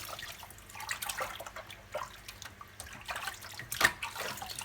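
Clean water splashes and trickles over a soapy young puppy during its bath, rinsing suds from its coat in soft, irregular pours and drips close by, without talk.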